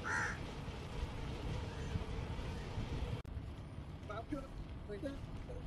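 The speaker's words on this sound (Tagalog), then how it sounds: "Daming uwak oh." Crows caw a few times over steady traffic and road noise near the Mina Rashid marina in Dubai, heard during a bike ride; the calls are moderately distinct over a constant background rumble.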